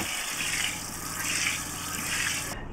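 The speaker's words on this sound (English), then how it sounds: "So that means we now have running water in the van, which is very, very cool." Cold water runs steadily from the tap of a Transit campervan conversion's pump-fed system, a continuous broadband gushing with a low pump hum beneath, then cutting off sharply near the end.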